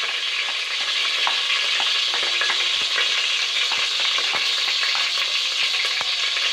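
Chopped onion sizzles in hot oil at the start of a Romanian potato stew, a steady close hiss flecked with sharp crackles and the light scrape of stirring throughout, with no talking.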